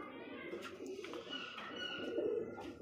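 Soft, low cooing from a competition-winning pigeon repeats close by, mixed with light rustling and faint background noise.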